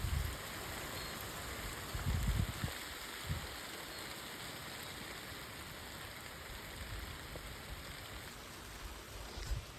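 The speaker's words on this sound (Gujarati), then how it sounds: "કેટલો બધો વરસાદ આવવા માંડ્યો એટલી વારમાં." Rain falls heavily in a continuous, fairly soft wash of hiss, with a few duller thuds near the start.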